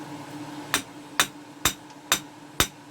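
Five sharp strikes of a copper-and-leather hammer land at a steady, unhurried pace in a bunker shaft, each a crisp metallic knock that rings briefly over a quiet background hum.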